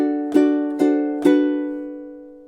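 Three ukulele strums for measure 18 of Jimmy Buffett's Margaritaville, evenly spaced, each ringing chord decaying slowly. The playing is close and clear, with no voice over it.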